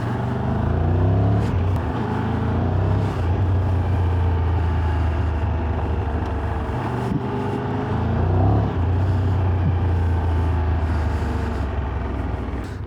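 A 2023 Triumph Tiger 1200 Rally Pro motorcycle rides over ruts and bumps and through puddles on a green lane, its engine a steady close, loud drone with small surges as it bounces along.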